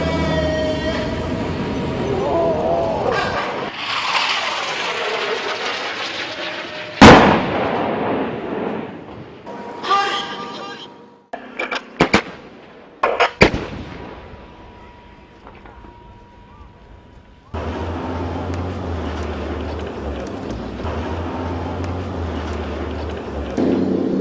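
Japanese self-propelled artillery gun firing, with sharp, loud blasts standing out against rumbling vehicle and mechanical noise, followed by a steady low engine drone.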